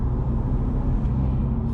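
A BMW M2 Competition engine drones steadily while driving, loud low-frequency rumble with induction sound mixed with loud road-surface noise, continuous throughout.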